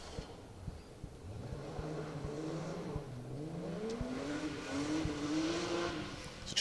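BMW E30 rally car, a 4WD-class stage entrant, accelerating downhill on a hillside forest stage; a smooth, steady engine note climbs through the gears as it picks up pace, heard at moderate distance alone.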